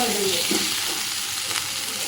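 Loud, steady sizzling from a pan with brief scraping stirs, close up and continuous.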